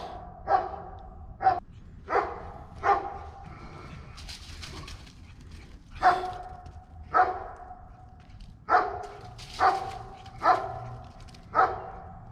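Dogs bark in repeated bursts of two or three sharp woofs with short pauses, fairly close and clear, over a faint steady background hum; no talking.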